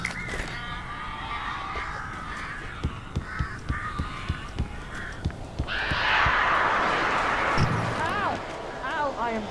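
Crows cawing in the video game Alan Wake Remastered, harsh repeated caws cutting through a dense wash of wingbeats and flapping, with sharp rhythmic thumps early on and a swelling rush of birds midway.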